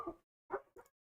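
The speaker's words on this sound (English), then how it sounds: "sorry. They're just gonna bark." Three quick dog barks, one then a pause and two close together, fairly near and moderately loud.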